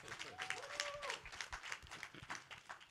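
An audience at a wealth summit live event claps in a brief, moderately loud burst, with cheering voices and a whoop rising through the middle.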